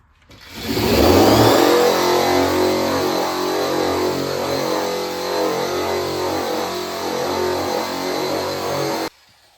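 A cheap Harbor Freight power tool fitted with its most aggressive abrasive drum spins up and runs steadily against a 1987 Z28 Camaro door, stripping paint with a loud, continuous whirring grind that cuts off abruptly.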